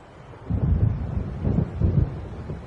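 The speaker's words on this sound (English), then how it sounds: "It seems there's a storm coming." Low, rumbling thunder from an approaching storm in Alan Wake Remastered, rolling in as several deep swells over a steady windy backdrop, moderately loud and without voices.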